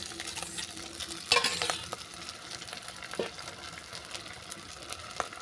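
Onion paste frying with ginger and garlic for an egg and kohlrabi curry makes a soft, steady sizzle, with a burst of spatula stirring and scraping early on and a couple of light taps later.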